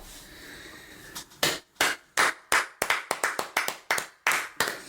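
A few people clapping in a small room, a quick scattered burst of sharp, close handclaps breaking out after a quiet start, with no talk.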